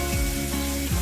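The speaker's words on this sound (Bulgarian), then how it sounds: "И слагаме всички зеленчуци заедно да се пържат." A steady, close sizzle of mixed vegetables frying in oil in a hot pan, with a faint low hum underneath and no talking.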